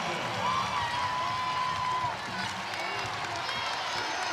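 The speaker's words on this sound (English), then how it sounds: "The crowd in purple on their feet" Kansas State basketball crowd in purple at a game against West Virginia, a broad roar of cheering and applause from a packed arena heard beneath a commentator's voice.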